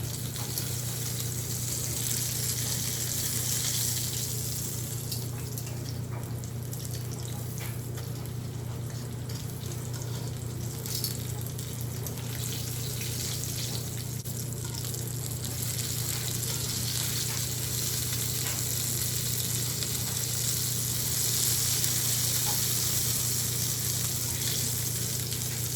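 Black bean taquitos frying in a cast iron pan give a steady, even sizzle and crackle that runs throughout over a low background hum.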